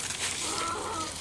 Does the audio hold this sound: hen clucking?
yes